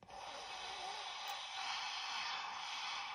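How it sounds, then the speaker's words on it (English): A single long, hissing ujjayi breath drawn through a constricted throat, steady and close, with a soft raspy snore-like quality. "So it's like a snore breath."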